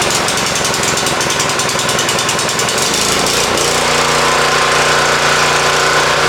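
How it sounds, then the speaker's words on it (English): A Honda engine on a California Trimmer reel mower runs loud and close, first with a rough, rapid pulsing chug that settles into a steadier, smoother drone, no voices over it. "choke is on, engine is on"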